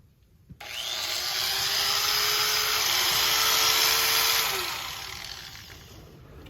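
A cut-off wheel grinds through metal in one continuous loud, harsh screech lasting several seconds, close by, then winds down as the tool spins to a stop.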